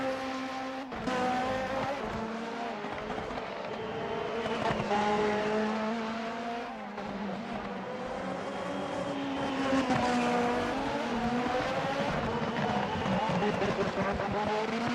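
Race cars in the Formula Hololive racing game run on the track at Autopolis, with a steady engine drone and rising and falling harmonic whine under continuous commentary.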